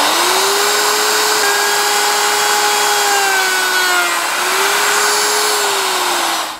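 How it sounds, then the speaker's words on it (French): A wood router with a bit cutting holes for wardrobe hanging rails, a loud, steady high-pitched whine with a slight wavering pitch as it bites, running alone until it stops at the end. "On met la défonceuse avec la fraise appropriée."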